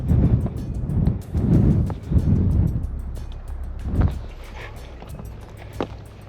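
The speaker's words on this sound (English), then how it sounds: "The wind starts to pick up." Strong wind blows outdoors in a national park: heavy, gusty rumbling buffets the microphone in waves, loudest early on and then easing to a steadier, lighter rush, with no talk.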